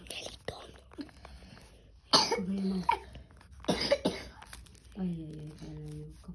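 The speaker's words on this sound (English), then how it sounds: "Coughing." Someone coughs several times in harsh bursts up close, with breathy, whispery sounds between the coughs.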